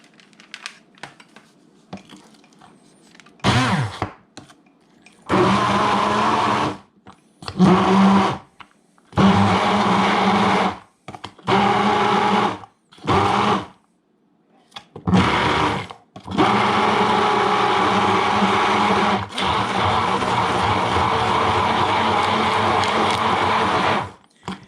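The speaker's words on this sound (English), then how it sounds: "we're going to hook up our trusty blender here and puree the heck out of this stuff" A blender purees a blue cheese dipping sauce in a kitchen, running in repeated short bursts and then one long steady whir, loud and near, with quiet pauses between pulses.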